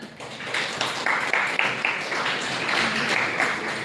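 An audience applauds at a seminar session, a loud and steady patter of many hands clapping together with a few sharper individual claps standing out.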